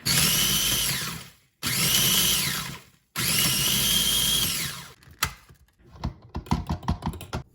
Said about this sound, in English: Now I'm going to grind it up into some breadcrumbs.